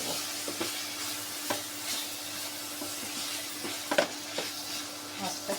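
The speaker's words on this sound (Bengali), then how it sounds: "একটু কষিয়ে নিই।" Chopped tomato sizzles steadily while being sautéed in a pan for a silver carp bhuna, with soft stirring scrapes and spatters repeating over a continuous frying hiss, close and moderately loud, no talking.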